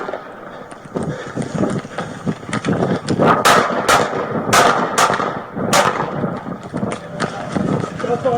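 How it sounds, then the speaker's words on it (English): During a Las Vegas police officer-involved shooting, a quick burst of about six sharp, loud gunshots rings out amid wind noise on the microphone and shouting voices. "Shots fired!"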